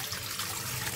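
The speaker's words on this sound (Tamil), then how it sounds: "மாவுக்கு தேவையான அளவு தண்ணி ஊத்தி நம்ம தண்ணியை கொதிக்க வச்சுக்கலாம்" Water is poured into a pot set on a lit stove to boil for Chettinad paal kozhukattai dough. The splash is a continuous, faint rushing that lasts only a moment.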